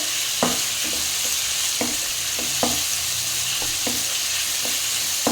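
Boiled chow chow (chayote) pieces fry in hot oil with chana dal, giving a steady close sizzle broken by regular knocks and scrapes of a spoon stirring the pan.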